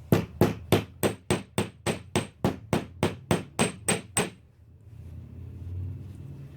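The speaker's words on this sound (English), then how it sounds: "We're going to take a very flat, polished hammer, very light," A light, flat, polished hammer taps out dents in a curved metal pendant on a mount, about fourteen crisp, evenly spaced metallic strikes up close, then stopping into quiet room noise.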